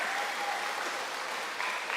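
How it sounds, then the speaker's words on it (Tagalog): A church congregation at a Sunday morning Ilocano worship service claps in steady, even applause that stays fairly uniform, with no voices rising above it. "Pinapalakpakan po ang Panginoon para doon"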